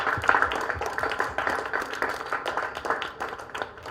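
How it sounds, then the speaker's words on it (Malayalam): Children clap their hands in a group on a children's TV show, a continuous patter of applause that is moderately loud, slightly looser and thinner than a full ovation. "നല്ലോണം കൈയടിക്കും, നന്നായിട്ട് കൈയടിക്കും."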